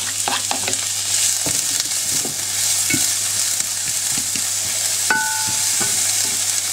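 Garlic and onion frying in hot oil in a pan make a loud, constant sizzle, close up, with occasional stirring scrapes and a brief tonal beep partway through.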